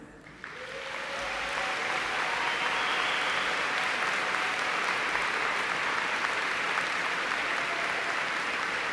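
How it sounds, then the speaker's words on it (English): A large audience at a university nursing commencement applauds the veterans. Broad, even applause rises within the first second and holds steady and full throughout, sounding somewhat distant in a big hall. "guests, please join me in a round of applause for our veterans"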